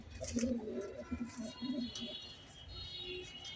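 Racing pigeons coo nearby in soft, repeated throaty calls, a few rolling coos in quick succession over a faint background hum.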